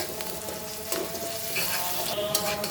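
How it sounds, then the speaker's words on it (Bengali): Chopped onion and garlic fry in a pan for a dish of Malabar spinach, a steady close sizzle with occasional stirring scrapes and no talk. "দেখো পেঁয়াজ রসুন সুন্দর করে ভেজে নিলাম"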